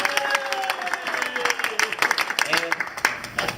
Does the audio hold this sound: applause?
yes